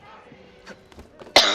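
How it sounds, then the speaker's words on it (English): A few small throat sounds lead into one sharp, loud cough close to the microphone at the end. "I still have a cough."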